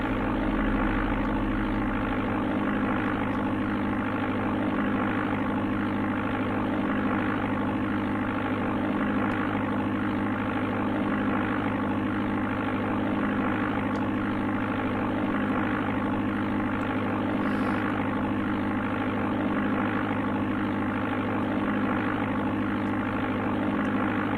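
Steady droning propeller aircraft engine from the Amiga game Flight Simulator II, loud and constant throughout with a low rumbling hum and no breaks.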